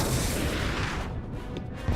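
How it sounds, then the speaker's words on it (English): A shrapnel grenade explosion in the space strategy game Halcyon 6, a dense, booming blast with rumbling debris that fades over about two seconds, with a small pop at the end. "let's immediately use a shrapnel grenade."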